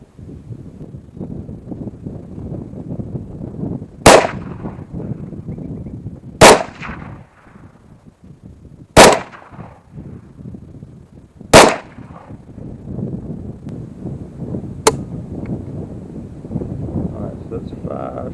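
Five sharp, loud PSAK-74 rifle shots ring out outdoors at uneven intervals over steady wind noise, each crack standing alone with a brief tail.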